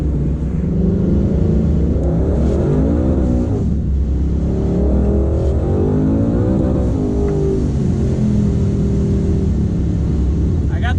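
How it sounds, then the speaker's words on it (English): A 2018 Ford Mustang fitted with a truck engine pulls hard on an open back road, its deep engine roar rising and falling through revs from inside the car, with a voice speaking over it. "We're just gonna go do some pulls in the car, find a nice open back road somewhere, and see if we can get some speed up"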